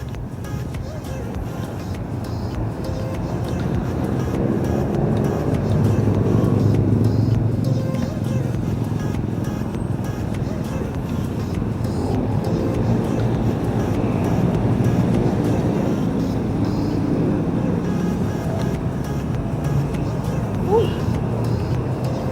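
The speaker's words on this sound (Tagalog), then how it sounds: "At madaming sasakyan." Heavy traffic on EDSA roars around a bicycle rider, a dense continuous rumble of engines and passing vehicles with wind, steady and loud throughout.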